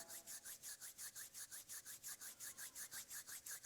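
Palms pressed together in prayer position rub back and forth in a quick, even rhythm, giving a soft dry swishing that repeats about five times a second, close and quiet with no voices.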